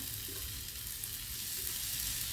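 Egg fried rice with a splash of vinegar sizzles steadily in a hot pan as it is stirred, a constant frying hiss with no talk.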